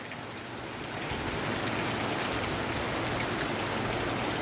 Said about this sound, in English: I can hear that rain pitter pattern on that tin roof.